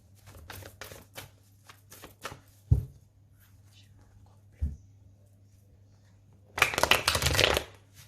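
Tarot cards being shuffled and cut by hand, quick papery riffles early, two sharp taps of the deck, then a loud dense burst of shuffling near the end, close up with no talk.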